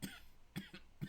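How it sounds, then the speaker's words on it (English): Three short, dry coughs in quick succession from one person, close to the microphone and fairly quiet against a faint background hum. "How am I still coughing?"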